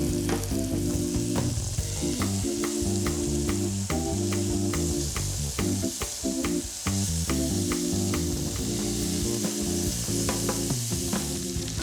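Chunks of lamb sizzle and fry loudly in a hot stew pot as they brown, a steady, dense crackle and hiss with no talking, while a music bed plays along underneath.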